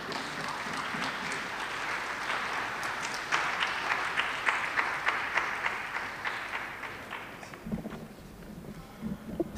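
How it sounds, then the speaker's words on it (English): An audience at a health forum applauds in a sustained, dense patter of clapping from a medium distance, holding steady before thinning out near the end. "So I'm going to lead the applause for you again and for Dr. Mweti for her opening remarks."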